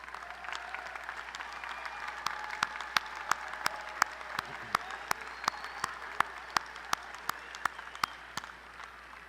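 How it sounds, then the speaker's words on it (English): Scattered applause at a college commencement ceremony, a soft bed of crowd clapping with a few sharp, regular nearby claps standing out and keeping an even beat. "grandchildren of our candidates please stand and receive our applause"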